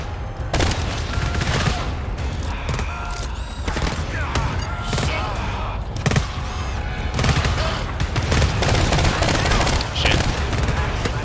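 Sustained gunfire from automated sentry turrets in the co-op horror shooter GTFO, dense overlapping bursts and thuds running the whole stretch, with players' voices mixed in.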